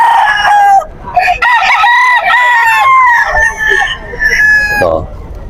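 Stag roosters crow loudly and close by at a crowded pet market in Bocaue, with overlapping cock-a-doodle calls and clucks, as people talk nearby.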